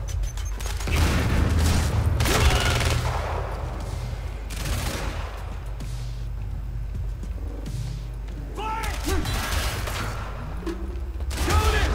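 Sustained gunfire in the video game Quantum Break, with dense bursts of automatic shots and heavy booms through most of the stretch, loud and close, surging again near the end.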